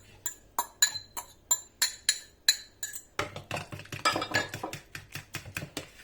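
A whisk beats salad dressing in a bowl, producing a steady series of sharp clinks against the sides, first spaced and then faster and denser, close and fairly quiet with no talking.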